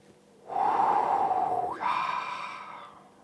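A single long nasal sniff inhales the aroma of a poured glass of Northern Monk imperial stout beer, close and fairly loud, in two breathy pulses with no talk.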